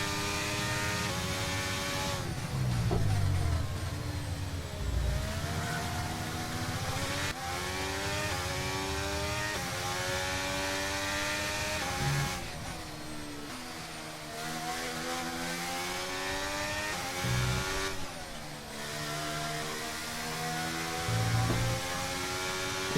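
A heavily worn Formula 1 engine in the F1 23 racing game screams continuously at high revs, its pitch climbing and dropping through repeated gear shifts and corners, loud and steady with no talking.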